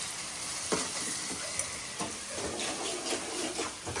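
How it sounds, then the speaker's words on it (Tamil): Ginger garlic paste is stirred in a hot pan for a Kerala-style chicken gravy, with a steady sizzle and several sharp scraping clicks of the spoon against the pan. Nobody speaks. "போட இஞ்சி பூண்டு பேஸ்ட்டு போட. நான் கிண்டுறேன்."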